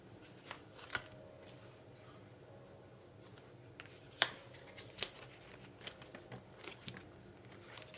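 Tarot cards are shuffled and handled close by, with soft riffling and sliding and several sharp slaps and snaps at irregular intervals over a quiet background.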